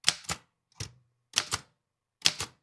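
Keys clack on an Underwood typewriter in short bursts, two or three crisp strikes at a time separated by brief pauses, close and clear in an otherwise quiet room.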